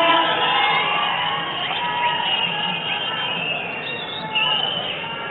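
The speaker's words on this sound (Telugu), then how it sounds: "కేకలు పెట్టండి, క్లాప్స్ ఇవ్వండి." A large crowd at a steel plant groundbreaking ceremony cheering, shouting and clapping continuously, a dense roar of voices and applause heard close through a bandwidth-limited recording.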